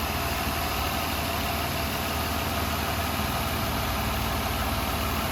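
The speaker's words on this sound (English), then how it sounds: "So as you can tell, there's no odd noises or vibrations coming from the engine." A 2007 Ford Escape XLT engine idles steadily and smoothly, a constant broadband drone with a low throb, heard alone without talk.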